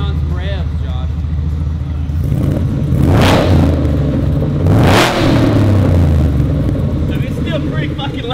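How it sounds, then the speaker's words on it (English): A 785-horsepower Ford F100 engine idles with a loud, rough rumble and blips its throttle twice in sharp revs, with voices talking nearby. "I'm waiting on some revs, Josh."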